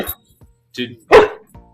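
A pet dog at home barks a few sharp times, close and loud, with brief faint sounds of a voice around it.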